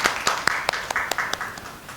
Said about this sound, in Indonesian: Bagi tepuk tangan untuk Mbak Sarah.